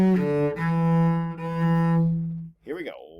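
Cello playing the opening four measures of Sword Dance, a few long sustained bowed low notes with rich overtones, ending on a brief wavering tone, alone and close.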